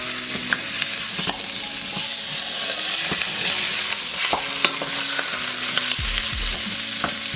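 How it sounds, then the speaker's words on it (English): Ground beef browning in olive oil in a pan for lasagna, a continuous bright sizzle punctuated by utensil taps and stirring scrapes, close and fairly loud. "we're just going to add our beef."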